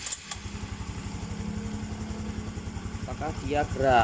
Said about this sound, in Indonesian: ini tak nyalakan dulu motornya